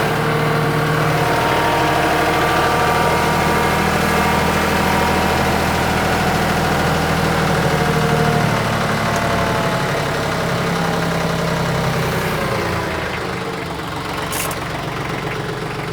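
A tractor with a backhoe runs steadily at idle in 4-wheel drive while being loaded up a steep ramp into a dump trailer, its engine droning continuously and easing slightly toward the end.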